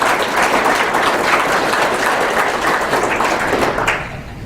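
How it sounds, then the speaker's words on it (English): Loud, dense round of applause from an audience at an agricultural gathering, sustained and even before tapering off quickly near the end. "Let's give these guys a round of applause."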